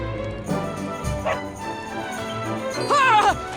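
A dog in the Dragon Quest XI video game barks and yips in short bursts, loud and close, ending in a higher whimpering cry.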